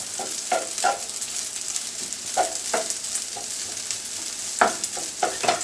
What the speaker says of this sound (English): unclumping the rice. And what I'm going to do every now and then is just turn it.